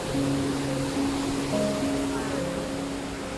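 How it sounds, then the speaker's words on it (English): A waterfall in Ubud, Bali pours in a steady broadband rush, loud and close, with faint voices murmuring underneath. "Indonesia is known for beautiful waterfalls."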